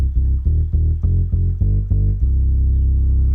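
A deep, saturated synth bass made from a pitched-down motorcycle horn plays a short rhythmic riff of repeated low notes, then holds a long sustained note; loud and close, no voices.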